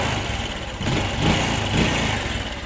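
A 2019 Honda Wave R 110 motorcycle engine is revved up close, its noisy, buzzy running swelling a couple of times over a steady idle.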